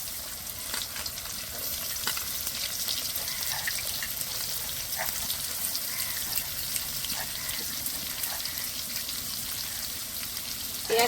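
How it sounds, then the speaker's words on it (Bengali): Chopped onions frying in a pan after whole garam masala has gone into the oil for a rohu fish curry, a steady close sizzle with scattered pops and occasional stirring scrapes, no talking. "পেঁয়াজটা ভালো করে ভেজে নেব।"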